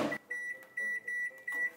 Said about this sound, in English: We're gonna pop it in the microwave for 2 minutes.